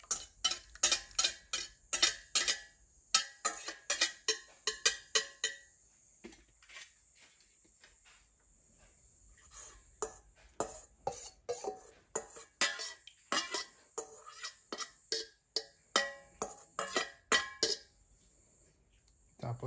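Mashed sweet potato is pushed through a strainer with a utensil, making rapid clinking and scraping taps in bursts with short pauses, close and fairly quiet, with a voice talking at times.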